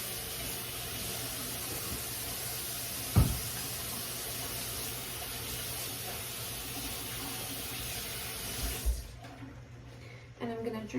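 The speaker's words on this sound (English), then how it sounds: "washing my hands" Hot tap water runs in a steady, close hiss while hands are washed, likely at a kitchen sink during dinner prep, with a brief knock partway through before the flow cuts off near the end.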